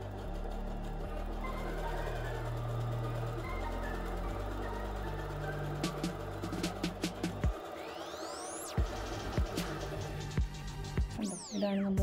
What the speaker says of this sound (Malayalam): ഓക്കെ, നമ്മളിപ്പോൾ സിഗ്സാഗ് ആണ് സ്റ്റിച്ച് ചെയ്യുന്നത്.